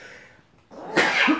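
A single close, sharp sneeze bursts out after a brief intake of breath and then trails off quickly.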